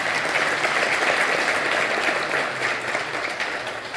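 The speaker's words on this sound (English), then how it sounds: "Please give them a round of applause." Sustained audience applause fills a hall at an Identity Day celebration, dense and steady throughout, fading slightly near the end.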